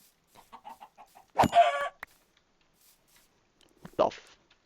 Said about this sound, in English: What happened to all my chickens?